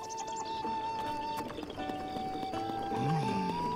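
Horse hooves clop along with a neigh near the end in The Legend of Zelda: Breath of the Wild, over steady tonal background music and faint bird chirps.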